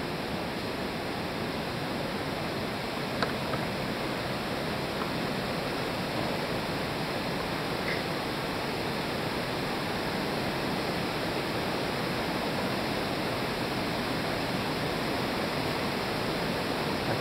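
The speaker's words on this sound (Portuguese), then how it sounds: "Aqui embaixo é a água do rio." River water flows through a cave as a constant, even rushing hiss with no pauses or voices, a dense wash of moving water that stays at steady loudness throughout.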